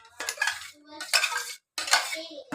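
Metal spoon scraping and clinking against a pot of cooking urad dal porridge in three bursts of stirring, close and fairly loud, with brief pauses between.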